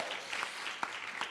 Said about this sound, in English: So clap it up for them.